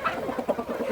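Hens clucking and squawking in a backyard flock as they fend off an amorous rooster, with busy overlapping calls in quick bursts, fairly close and moderately loud.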